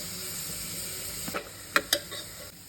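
Chopped beans, cabbage, capsicum and carrot hitting a hot pan for street-style spicy macaroni, giving a steady close sizzle and hiss punctuated by a few sharp clinks of stirring.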